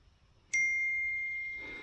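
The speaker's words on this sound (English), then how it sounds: "I keep getting text messages." A single bright phone text-message notification ding rings out clearly and lingers, fading slowly over a quiet background.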